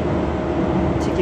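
The RA903 train pulls away from Stratford station, a loud, close, steady rumble of rail movement filling the moment without clear pauses.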